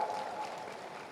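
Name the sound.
audience applause at Bhopal event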